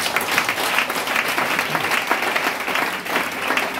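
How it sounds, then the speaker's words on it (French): A church congregation at a Pentecost service claps and cheers in acclaim, a loud, sustained wash of applause with mingled voices that holds steady throughout. "Je veux que tu acclames encore l'Éternel."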